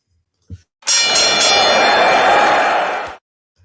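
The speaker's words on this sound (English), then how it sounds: "let's ring the bell and get going" A single loud ring of a wrestling-style bell opens a wrestling news show, a bright metallic clang that sustains for about two seconds and then stops, with no other sound around it.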